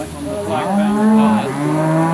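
Milking Devon bulls on a Florida grazing farm give a loud, close, drawn-out moo that rises and falls in pitch over about two seconds.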